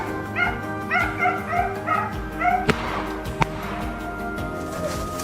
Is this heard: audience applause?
no